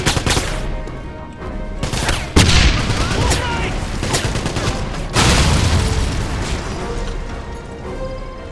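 A Tiger tank fires shells in the shooter game Wolfenstein (2009), with heavy booms that hit sharply and roll into long rumbling tails amid continuous battle noise, while someone talks now and then.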